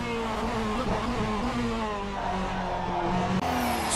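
Onboard engine note of the number 66 Porsche 963 hypercar in a sim racing game at Long Beach, a loud continuous buzzing whine with harmonics rising and falling through gear changes and throttle lifts.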